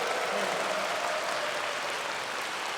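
An audience claps together in a concert hall during a youth symphony orchestra's explanatory concert, a steady wash of applause at moderate loudness, diffuse and slightly distant, holding evenly throughout.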